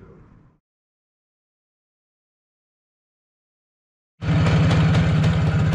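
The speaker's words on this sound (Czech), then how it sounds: "Motorka je nastartovaná, jede." A 1974 Jawa CZ 477 175 cc motorcycle engine starts and runs loudly and steadily after a few seconds of silence. A brief low sound is heard before it catches.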